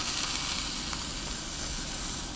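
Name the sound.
steak fat cap searing in hot oil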